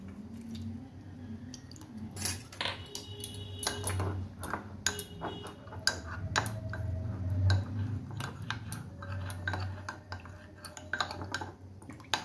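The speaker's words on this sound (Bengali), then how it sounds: "আমি ঠান্ডা দুধটা থেকে কয়েক চামচ দুধ এই কাস্টার্ড পাউডারটার মধ্যে দিয়ে গুলে রাখছি।" A spoon clinks and scrapes in a bowl while custard powder is mixed with a few spoonfuls of cold milk, making repeated close ticking and tapping sounds with a low kitchen hum underneath.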